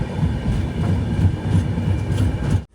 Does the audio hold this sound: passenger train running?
yes